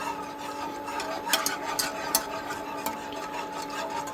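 A whisk scrapes and stirs steadily through a pot of cheese sauce for sausage mac and cheese as cheese slices melt in, a soft continuous swishing with a few sharper clinks against the pot.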